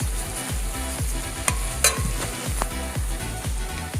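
Vegetable curry of three or four mixed vegetables frying in a pan, with steady close sizzling and a regular rhythm of stirring scrapes repeating about twice a second, plus a few sharper clinks.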